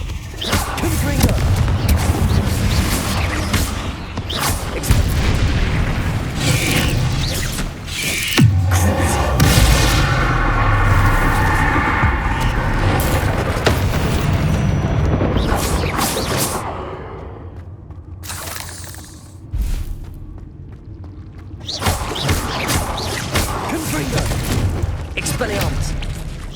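Repeated Confringo explosion spells in Hogwarts Legacy, with booming blasts and bangs in heavy clusters over a long stretch of combat. Shouted voices come through now and then between the blasts.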